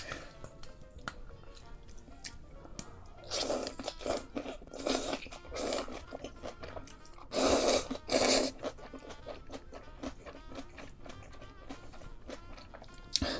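Crunchy bites of homemade grandmother's kimchi during a meal alongside ramen, Spam and soy sauce egg rice, with several loud crisp crunching bursts in the middle, close to the mic, then quieter chewing and small mouth sounds.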